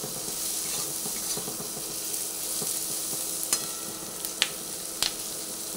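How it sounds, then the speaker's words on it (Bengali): Onion frying with turmeric powder in a pan, a soft, even sizzle with faint stirring and a couple of light clicks of a utensil near the end, heard close but quietly. "হলুদ গুঁড়ো দেওয়ার পরে আবার পেঁয়াজটা ভালোভাবে একটু ভেজে নিচ্ছি।"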